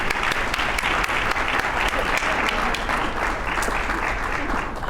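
Audience applause fills a lecture hall welcoming Dr. Mona Sigal, MD, before her talk on dietary fats; steady, dense clapping from a large crowd, loud and sustained throughout without a break.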